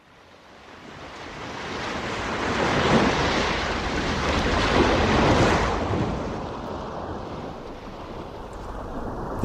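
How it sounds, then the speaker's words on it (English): Ocean waves used as a sound effect in a radio comedy show swell into a broad, roaring wash of surf that builds, peaks and eases back over several seconds, steady and fairly loud with a windy hiss and no voices. "The ocean depths."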